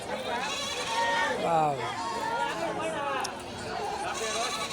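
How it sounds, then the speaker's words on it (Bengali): Small goats bleat repeatedly at a busy livestock market, their wavering cries close by and mixed with steady chatter and people talking throughout. "এগুলা সব ছোট সাইজের ছাগল"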